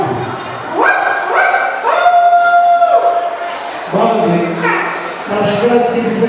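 A person vocally imitates a dog barking, producing several loud, close yelping barks in bursts with short pauses between them.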